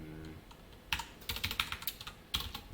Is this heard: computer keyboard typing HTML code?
yes